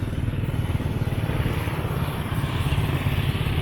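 A motorcycle engine runs steadily during a ride near a public market in Manjuyod, Negros Oriental, with a constant low rumble and road noise close up and no clear talk.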